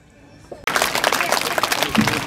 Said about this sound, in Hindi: जोरदार ताली बजा करके प्रतिभाओं का उत्साहवर्धन करें